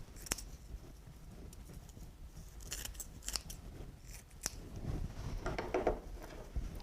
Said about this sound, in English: Then you can cut the end however long you want it.